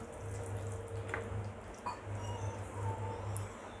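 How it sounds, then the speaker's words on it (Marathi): Water poured from a vessel into Afghani egg korma gravy in a pan, a close, steady gurgling trickle with a low hum in the background and no speech. "थोडंसं आपण पाणी टाकून देऊया"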